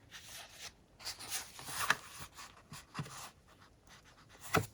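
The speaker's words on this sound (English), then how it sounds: "So you fold that one there." Paper being folded and creased by hand into a junk journal folio, soft intermittent rustles and scraping strokes, close and quiet with no talk.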